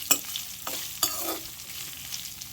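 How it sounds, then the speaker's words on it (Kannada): Chopped taro leaves drop into a hot pan of frying garlic, sizzling steadily with a few sharp stirring scrapes up close. "ಬೆಳ್ಳುಳ್ಳಿ ಸ್ವಲ್ಪ ಫ್ರೈ ಆಗ್ತಿದ್ದಾಗೆ ಇದಕ್ಕೆ ಹೆಚ್ಚಿಟ್ಕೊಂಡಿರುವಂತಹ ಕೆಸುವಿನ ಬೀಳುಗಳನ್ನು ಹಾಕ್ಕೊಳ್ತಾ ಇದ್ದೇನೆ"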